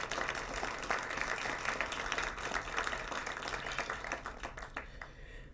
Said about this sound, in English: Can we just give all that a round of applause really quickly?